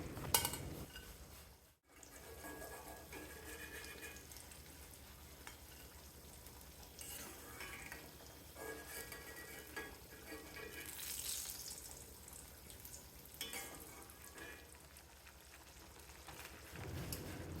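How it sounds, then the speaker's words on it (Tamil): Vadagam, sun-dried lentil fritters, fry in hot oil in a village kitchen, giving a steady, close, rain-like sizzle with a stirring sound and a brief drop-out near the start. "வடகம் இந்த அளவுக்கு செவந்ததும் நம்ம எண்ணெயிலேருந்து அரிச்சு எடுத்துடலாம்"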